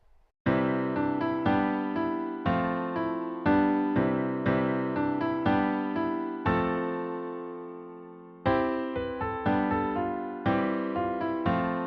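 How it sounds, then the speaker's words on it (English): A bright major-scale melody climbs and descends stepwise over sustained major chords, notes struck in a flowing rhythm with a brief pause midway, no voices. "if we put together a melody and play a major scale over major chords"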